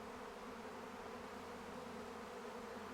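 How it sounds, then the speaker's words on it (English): A large swarm of honey bees hums in a dense, steady buzz that holds faint and even throughout, with no voices. "just to see this many bees en masse"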